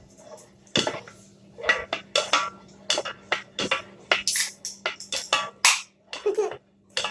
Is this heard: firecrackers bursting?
no